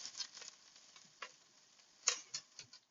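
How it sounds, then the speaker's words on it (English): Garlic sizzling with cooking onion in a pan for homemade tomato soup, a soft close crackle of frying broken by a few light stirring scrapes and taps, quiet and without speech. "Adding the garlic to the cooking onion."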